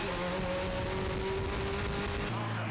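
TVR Tuscan race cars roar past on the Oulton Park circuit, a loud sustained engine drone with steady tones that drops away near the end, with no speech.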